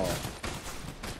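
Sniper fire in Fortnite: a few broadband gunshot bursts about half a second apart, loud and close, over a dense background of game noise with no speech.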